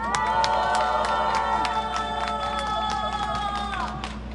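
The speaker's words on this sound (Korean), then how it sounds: "뜨겁게 박수하겠습니다." Crowd at an outdoor Korean protest rally clapping and cheering, with loud whoops and shouts over scattered claps while a sustained tone and tonal voices ring through, fairly close and busy throughout.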